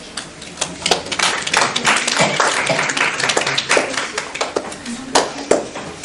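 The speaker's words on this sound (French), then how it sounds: "Nous pouvons applaudir Zoé, Clément et Thomas." Audience applauding scientists Zoé, Clément and Thomas, who explain the secrets of dessert recipes: dense, sustained clapping from many hands, close and loud, with a few sharper individual claps standing out.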